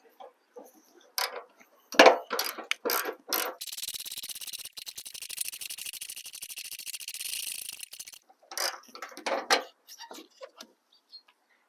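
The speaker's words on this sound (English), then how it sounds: "So again, we're going to remove the bolt, 10mm. It helps if you have an extension for this part." A ratchet with an extension removes a 10mm bolt from the fender of a Honda Odyssey: sharp close clicks, then a steady rapid ratcheting buzz for several seconds, then more scattered clicks.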